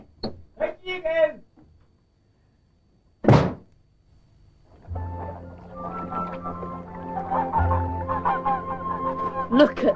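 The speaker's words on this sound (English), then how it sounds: "Mum was wrong. They're not grey geese. Beautiful, aren't they? They're Chinese." Chinese geese honking in a short burst of loud calls early on, followed later by a busier stretch of overlapping bird and ambient sounds; voices speak at the start.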